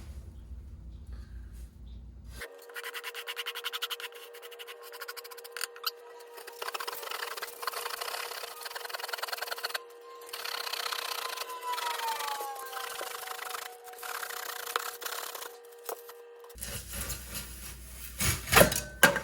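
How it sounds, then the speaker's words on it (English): A hand rasp scrapes across a wooden skateboard deck in bursts of rough, scratchy strokes, close and moderately loud, with quieter pauses at the start and end. "Now we can do a little rasping."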